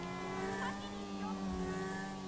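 A motorbike ridden in GTA V gives off a continuous droning engine tone that holds steady at a moderate level, with slight pitch wavers as it cruises along.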